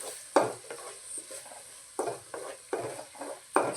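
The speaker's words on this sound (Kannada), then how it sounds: "ಸ್ಮೆಲ್ ಹೋಗೋವರೆಗೂ ಫ್ರೈ ಮಾಡ್ಕೊಳ್ಳೋಣ" Ground spice masala for a masala radish stir-fry cooked over a low flame, with a spoon scraping and stirring it in the pan in repeated bursts, soft sizzling between strokes, close and with no talking.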